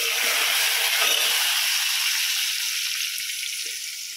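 Curry leaves and garlic sizzling in hot oil in a pan, a bright continuous crackling hiss that eases slightly toward the end, close and loud with no talk.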